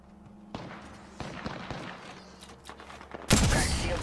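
Gunfire in the video game Apex Legends: scattered sharp shots and thuds with a few bursts, then a loud dense blast of fire near the end, no talk.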